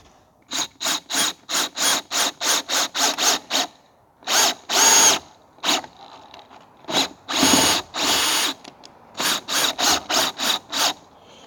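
A low-battery power drill drives screws into wood on a van: close, loud whirring bursts, first a rapid run of short pulses, then a few longer sustained runs, then more quick pulses, with no talking.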